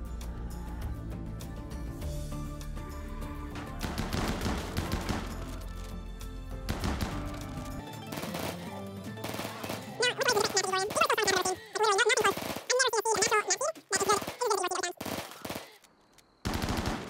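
Rapid bursts of automatic gunfire from colonists in the video game RimWorld, with music and game effects playing underneath; the bursts grow dense and loud in the second half, with brief gaps between volleys.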